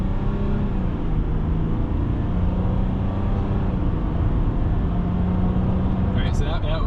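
A 2017 RAM Laramie truck with a 3.0L diesel engine drives under acceleration, giving a steady, loud low rumble of engine and road noise throughout, with a brief higher rattle near the end.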